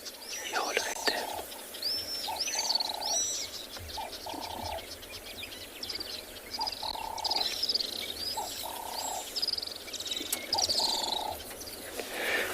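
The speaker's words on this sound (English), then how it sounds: "the main species over here is the little swift. You can hear from the call, it's almost like this high-pitched trilling noise." Little swifts give high, thin trilling calls in repeated bursts over a steady outdoor background at a sunrise safari, with other birds chirping around them.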